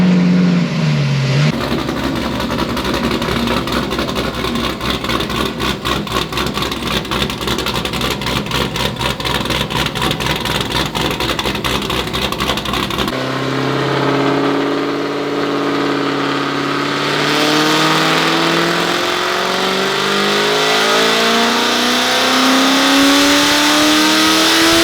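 A Chevrolet LT1 V8 engine running steadily as it warms up, with a continuous loud idle that shifts midway into rising, sweeping revs. Close and alone, with no talk over it.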